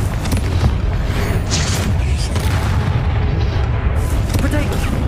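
Confringo spell blasts in the Hogwarts Legacy video game give a continuous loud rumble of booming explosions and combat noise, with a voice calling out over the roar.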